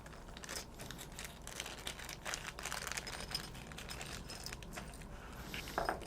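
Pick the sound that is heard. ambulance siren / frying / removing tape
removing tape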